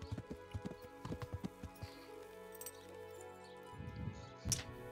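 Horse hooves clip-clop in Kingdom Come: Deliverance, a medieval game, with a run of irregular hoof thuds that pause and then return in a denser cluster near the end, ending in a brief snort or whinny.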